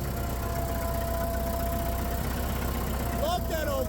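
Old tractor engine being bump started, a steady loud low rumbling run under a brief voice near the end.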